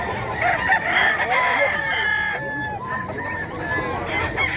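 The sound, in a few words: Iron cock rooster crowing at Bocaue pet market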